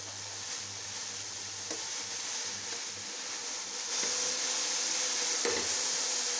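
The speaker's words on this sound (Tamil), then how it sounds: "ஒரு கிளறி கிளறிக்கோங்க." Grated carrots sizzle in a pan and are stirred into a stovetop poriyal, a steady close frying hiss with soft scraping strokes, growing slightly louder partway through, and no talk.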